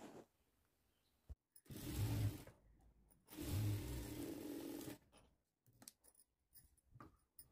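A sewing machine runs a stitch along folded lining on a blouse in two short close bursts of whirring, separated by quiet gaps with small handling clicks.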